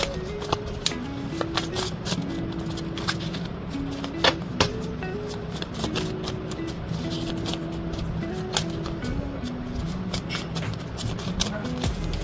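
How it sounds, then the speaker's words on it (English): A deck of cards is shuffled repeatedly, with riffle snaps and rapid flicks over steady background hum and a voice speaking. "Alright, let's start shuffling."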